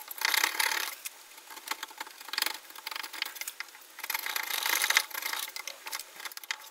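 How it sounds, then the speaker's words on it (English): A chisel is driven in repeated stabbing strokes across a housing cut into a wooden box front, giving bursts of scraping, rasping wood noise in three or four clusters with short pauses between them, close and fairly quiet. "I can now make stabbing motions across the housing to remove that material"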